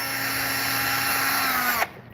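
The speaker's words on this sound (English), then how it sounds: "Put the drill." Power drill whirring at a steady high pitch, a close, continuous motor whine lasting under two seconds before it stops sharply.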